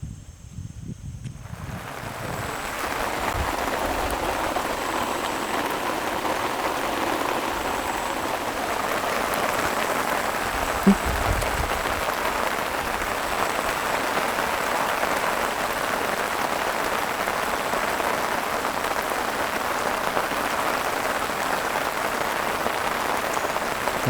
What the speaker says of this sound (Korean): 비가 와서 나갈 수가 있나?